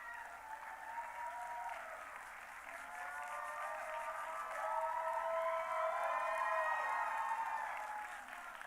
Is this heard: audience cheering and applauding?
yes